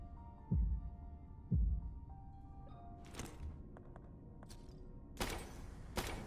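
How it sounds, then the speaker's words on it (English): Two deep, muffled thumps of a heartbeat from a baby doll statue in the Tormented Souls game, low and isolated against a quiet, humming backdrop, followed by a few faint scrapes and noise bursts. "We know it has a heartbeat"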